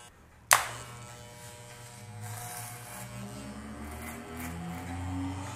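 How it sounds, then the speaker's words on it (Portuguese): An electric hair clipper starts with a sharp click and then buzzes steadily up close as it cuts hair low on the sides of the head, a continuous motor hum running throughout. "vai começar com a máquina na parte de baixo do cabelo e vem com a máquina sempre rente à cabeça"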